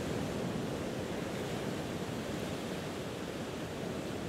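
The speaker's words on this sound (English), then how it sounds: "The incoming high tide washes against the rocks, reshaping and reforming them" High tide waves wash against rocks on a beach at sunset, a soft, even rushing hiss of water that stays constant and fairly faint without distinct individual breaks.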